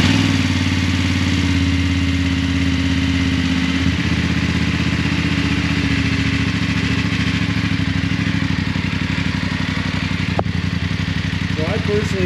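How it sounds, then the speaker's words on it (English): A BMW GS motorcycle with its stock exhaust idles after a cold start, a loud, steady, close engine drone with an even pulsing beat throughout and a voice talking faintly over it. "The motor is pretty cold, so this is gonna be as close to a cold start as you're gonna get."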